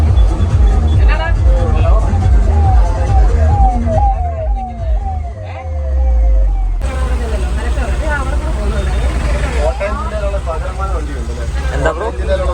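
Ambulance siren wailing amid heavy, busy road traffic, its rising and falling tone running nearly throughout, loud and close, with people talking over the street noise.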